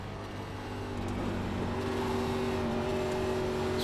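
Engine of a NASCAR Xfinity car in iRacing at New Hampshire, a steady droning hum that builds slightly as the throttle opens, with no talk over it.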